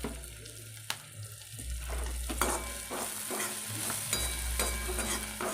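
Maggi noodles with garlic, chilli and salt are stirred in a pan, soft sizzling under repeated scraping strokes of a spoon, close by and steady, with no voices.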